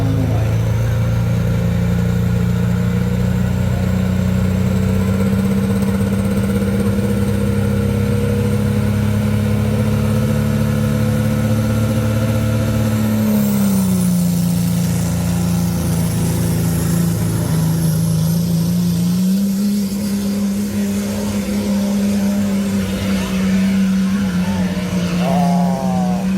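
A Dodge pulling truck competes at a truck and tractor pull at Monroe County Fairgrounds, Illinois, its engine roaring loud and steady, with the pitch stepping down and then back up.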